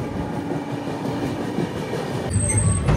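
Visakhapatnam Weekly SF Express (22802) passing slowly through Duggirala station without stopping, heard from on board as a continuous loud rumble of wheels and carriages with clicking joints, growing heavier toward the end.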